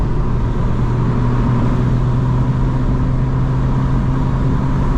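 A 2025 BMW M4 with active sound design switched off, heard from inside the cabin as a steady, loud low engine drone with a constant hum at a fixed pitch, no one talking.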